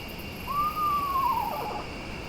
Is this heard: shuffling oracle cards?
no